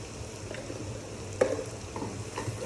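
Ground spices and turmeric fry in oil in a pan for a snake-head fish and bottle gourd curry, a faint, steady sizzle with soft stirring scrapes and one brief clink, no voices.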